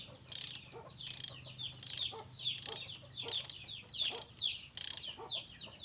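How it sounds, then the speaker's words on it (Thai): A ratchet tool tightens the brake bolts on a Yamaha Spark 115i motorcycle. It makes seven evenly spaced bursts of rapid clicking, close and crisp, over a faint low hum, with no talking. "ขันเข้าไปเรื่อย ๆขันบนขันล่างนะครับอย่าเพิ่งขันแน่น ขันไล่กันไปก่อน"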